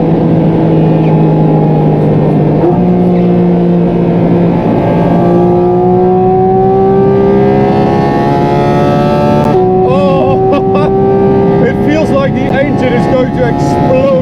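A Porsche 718 GT4 RS Weissach engine revs loudly toward 9,000 RPM on the autobahn, its pitch climbing steadily through a gear, then a shift and another rising howl, close and dominant throughout.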